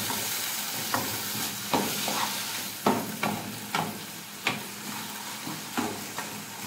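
Chicken giblets (gizzard, neck, liver) frying in a pan, a soft steady sizzle broken by several sharp scraping clicks as they are stirred, fairly quiet and close, no voices.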